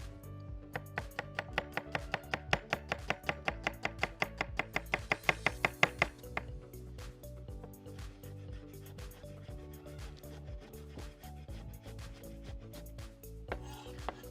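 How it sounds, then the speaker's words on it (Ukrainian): A knife chops onion very finely on a board in quick, even taps that speed up into a rapid run and then stop around six seconds in, after which only faint background sounds remain. "Візьмемо цибулю. Також нарізаємо дуже-дуже дрібно."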